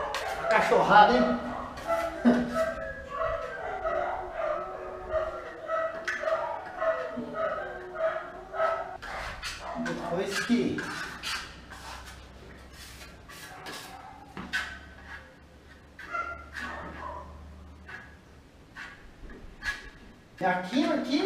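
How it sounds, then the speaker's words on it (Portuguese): Dogs barking and yipping in bursts near a marmorato plaster painting class, moderately distant, while people talk nearby throughout. "A cachorrada, hein?"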